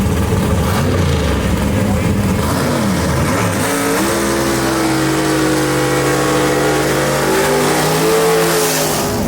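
A gasser drag racing car at Shadyside Dragway roars nearby, its engine climbing in pitch as it accelerates hard down the strip, loud and continuous with an announcer's voice underneath.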